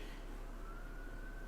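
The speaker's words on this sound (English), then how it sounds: "There's sirens in the background" Emergency sirens wail faintly in the distance, a thin steady tone that slowly rises and sits beneath a low background hum.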